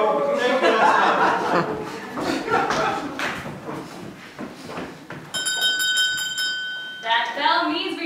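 A bell rings with a bright, sustained metallic tone during a telethon comedy sketch, loud and close, after laughter and talk and followed by a voice speaking.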